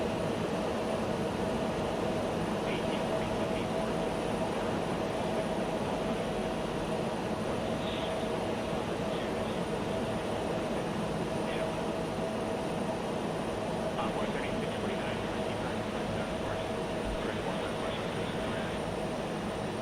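Bell 412 helicopter rotor and turbine drone from a flight simulator with a search-and-rescue sound mod, a steady broadband whine and thrum holding level for the whole stretch with faint clicks on top.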